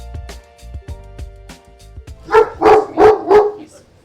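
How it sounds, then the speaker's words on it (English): A large dog barks loudly at visitors from a big crate in a living room, a short run of four strong, closely spaced barks following some quieter yips and rustling. "their dog Hercules greets visitors loudly from his big crate in the living room."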